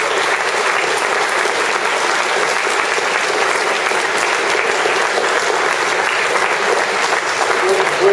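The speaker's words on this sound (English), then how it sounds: "I think Norman deserves a tremendous round of applause" Sustained applause from a conference audience honouring Norman at an SDLP party conference on a shared society, steady and dense throughout with no break.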